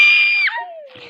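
A loud, high, sustained scream in the SCP Orange Alligator video game breaks off into a falling wail, then a faint murmur follows.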